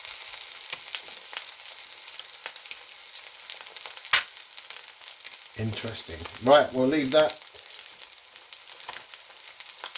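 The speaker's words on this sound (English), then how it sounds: "Unless you particularly want to watch it sizzling away." Vegan sausage patty frying in a pan, a low steady sizzle running throughout with a brief louder crackling burst near the middle, while a person talks over it.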